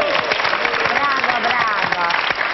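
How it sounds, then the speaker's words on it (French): A French television game show studio audience applauds in a dense, continuous patter of clapping, with a host's voice talking loudly over it. "on applaudit Bronson, bravo, le cow-boy."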